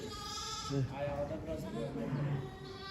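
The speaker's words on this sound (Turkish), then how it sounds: "Kuzularımız doğmaya başladı arkadaşlar." Newborn lambs bleat in a livestock pen, with several thin, wavering cries close by over low background noise, while people talk nearby.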